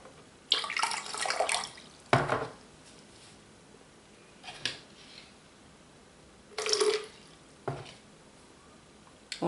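Water poured into a container on a scale while measuring it out for goat milk soap, heard as several short splashing bursts separated by quiet pauses.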